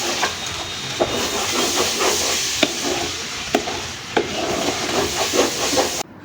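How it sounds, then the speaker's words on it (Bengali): Rice frying in oil in a pot with cooked beef and green chillies, a steady close hiss and sizzle with occasional sharp clicks and scrapes of stirring, continuous without talk. "ভালো মতন হচ্ছে আমি চালটা ভেজে নিব সময় নিয়ে"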